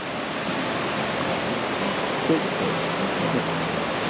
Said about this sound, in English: the creek that runs down Creek Street